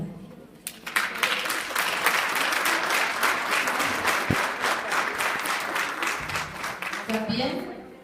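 Audience at a Chilean-European gynecological health conference in Calama applauding, a sustained patter of many hands at moderate distance, fairly steady, ending with voices beginning to talk over it.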